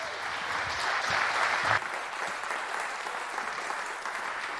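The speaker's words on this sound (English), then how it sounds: "So please welcome her with a very warm round of applause" Warm round of applause from a conference audience welcoming a speaker on stage at a medical software talk, steady dense clapping that swells briefly and then eases off slightly, with no voices over it.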